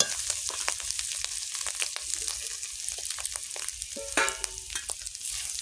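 Spiced egg mixture with chili powder and kasuri methi being stir-fried in a pan, a steady sizzle with repeated sharp scraping and stirring clicks, close and fairly loud, without talk.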